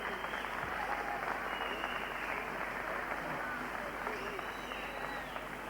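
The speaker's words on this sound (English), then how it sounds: "let's give them a big round of applause because they're sportsmen" Audience applause at a world championship kickboxing event, a dense, steady wash of clapping from a crowd that holds at an even level throughout.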